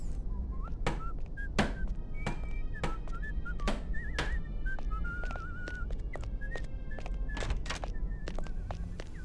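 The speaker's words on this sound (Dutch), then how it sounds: "Ik hoorde iemand fluiten." Whistled tune in the Hitman: Blood Money video game, a short melodic line repeating across the stretch at moderate loudness, broken by sharp percussive thumps over steady background ambience.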